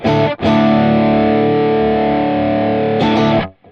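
A heavily distorted electric guitar chord through a Helix Stadium XL amp and cabinet simulation rings out loudly and sustains, cut off and struck again, with no other sounds around it.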